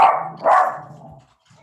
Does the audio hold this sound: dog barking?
yes